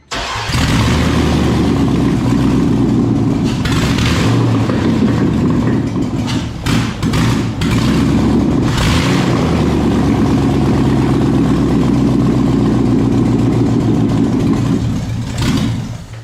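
After a swap, an LS6 V8 cranks and catches, then roars at a loud, rough idle with several sharp revs blipping above the steady rumble, close up and with no talking.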